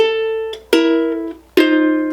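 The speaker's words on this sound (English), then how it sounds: "So this little pickup will sound like this." Pickup phrase from a song played on a ukulele: three plucked chords, each struck sharply and allowed to ring, close and clear with no voices.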